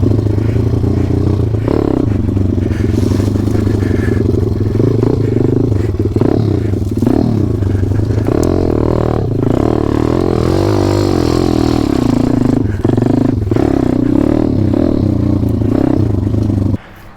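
A dirt bike rides a trail with a loud, continuous engine that rises and falls as the rider works the throttle, with rattling and clattering over rough ground before an abrupt cut at the end.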